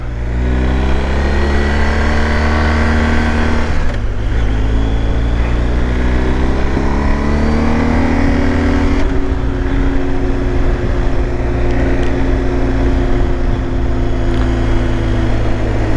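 A 2023 BMW R 1250 GS Adventure motorcycle ridden in dynamic mode, its engine loud and close, dipping in pitch around two gear changes and then climbing again as it accelerates, with no speech.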